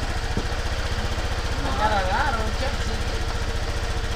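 A vehicle engine idles with a steady, pulsing rumble as the machine shakes, while someone talks over it almost continuously.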